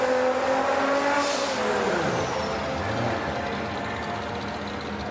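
Drag-racing cars, European and American, accelerate in a continuous loud engine roar that rises through the gears. A second, distant engine note sweeps past partway through.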